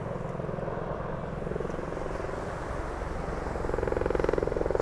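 Helicopter flying over South Beach during the Miami Air & Sea Show, a steady rhythmic rotor chop with engine drone that grows louder and more pulsing toward the end.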